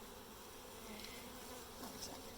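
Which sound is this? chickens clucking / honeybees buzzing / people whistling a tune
honeybees buzzing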